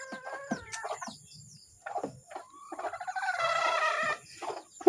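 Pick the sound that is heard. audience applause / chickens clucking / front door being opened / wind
chickens clucking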